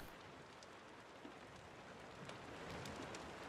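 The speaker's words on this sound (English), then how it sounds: "It's raining in the cabin." Steady rain falls on a cabin as a faint, even hiss of drops that continues unbroken, with a few soft taps and no voices.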